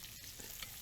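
Salmon fries in a pan with a soft, continuous close sizzle and faint crackles, steady throughout.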